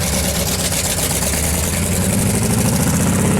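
A car engine runs steadily, a loud continuous rumble with a slight rough pulse, close by and without voices.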